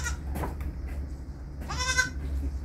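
A mother goat that has just given birth bleats twice close by, a short cry early and a longer quavering bleat near the end, over a low steady hum.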